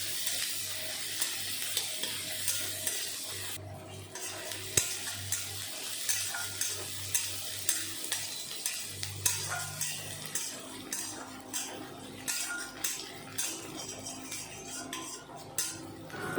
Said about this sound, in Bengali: এখন পেঁয়াজ কুচি নেড়ে চেড়ে ভালো করে ভেজে নেব।